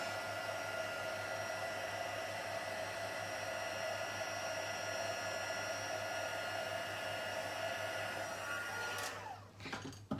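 A handheld heat tool blows hot air during a crafting session, giving a steady, close whirring rush that holds for about nine seconds and then cuts off abruptly. No voices are heard.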